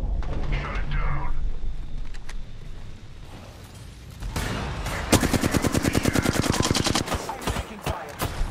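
Rapid automatic gunfire in an online shooter video game, a fast machine-gun burst of sharp repeated cracks following quieter scattered shots and faint game chatter.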